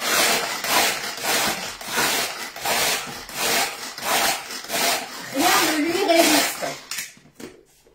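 Tupperware Speedy Chef hand-cranked mixer churning a thick ice cream mix, a repeated rhythmic grinding rasp in steady pulses that ends abruptly, close by with a voice talking at times.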